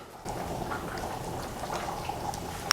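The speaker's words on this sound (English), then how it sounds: "You hear that gravy in the background bubbling?" Soft, steady bubbling and faint popping from gravy simmering in a pan, continuous and close, with no voices.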